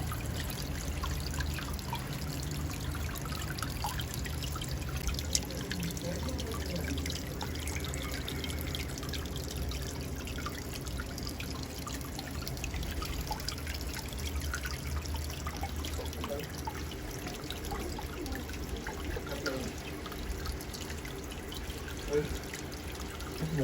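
Water poured out for pigeons to drink and bathe in trickles and drips steadily and close by, with low murmuring voices underneath throughout.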